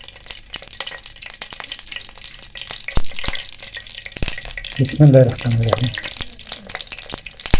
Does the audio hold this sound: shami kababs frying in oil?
yes